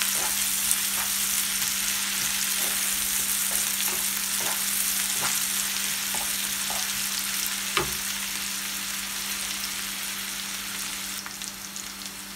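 A fish mixture frying in a pan, a dense, even sizzle running throughout with faint scattered taps and scrapes of stirring, close and steady without any voices.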